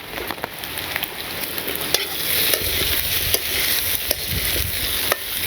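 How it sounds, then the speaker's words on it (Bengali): Potatoes fry in a pan with a constant close sizzle, broken by sharp clicks and scrapes every second or so as they are turned, with no talking. "আলুগুলো বেশ ভালো করে লাল করে ভাজা হয়েছে"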